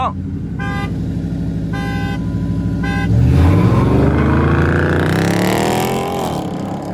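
A Dodge Charger R/T's horn blares in three short honks over an idling engine, followed by the engine revving up loudly.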